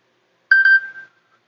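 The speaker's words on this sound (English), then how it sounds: "That was my alarm, sorry." A phone alarm gives a short electronic beep, two quick clear tones and a fading tail, about half a second long, alone in silence.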